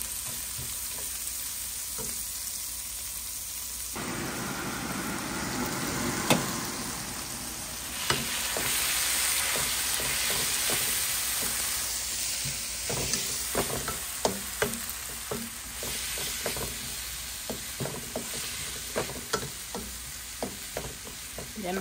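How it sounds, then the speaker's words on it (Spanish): Sliced onion, tomato and chile rings fry in a pan for frijoles charros, hissing steadily and growing louder once added, with repeated close scrapes and taps of stirring and no talk. "Aquí voy a dorar bien la cebollita, el jitomate y el chile."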